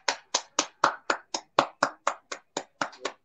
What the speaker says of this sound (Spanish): Yo quiero dedicarle 10 segundos de aplausos.